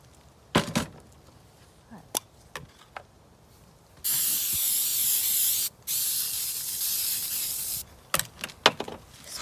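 Aerosol spray on a cast iron skillet being restored: two long, loud hissing bursts, the second longer, bracketed by scattered clicks and handling knocks.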